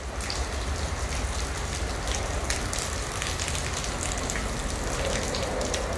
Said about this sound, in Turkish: Gece başlayan yağmur hiç durmadı.